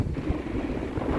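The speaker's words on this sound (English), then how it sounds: "a really windy day here" Strong wind blowing at a coastal point at the end of the land, a steady low roaring buffet against the microphone with gusty rumbles, loud and continuous.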